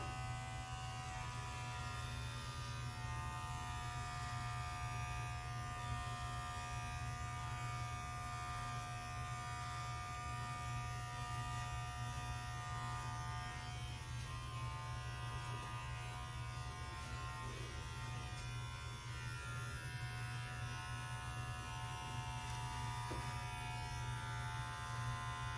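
A steady electric trimmer buzzes without a break while trimming sideburns, holding a constant close hum with no talking.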